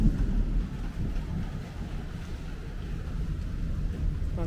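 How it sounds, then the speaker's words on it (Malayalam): Heavy rain pours steadily while thunder adds a deep, continuous rolling rumble underneath the dense wash of falling water. "മഴ പെയ്യുന്നുണ്ട്, നല്ല ഇടിയാ വരുന്നത്."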